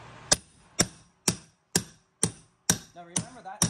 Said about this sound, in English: We're gonna take our hammer and tucker.